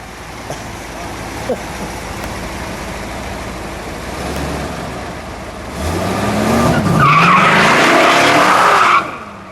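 A 1969 Dodge Daytona Charger with a 426 Hemi does a burnout, its engine rising into a loud, sustained tire squeal that peaks near the end before cutting off, with people talking nearby.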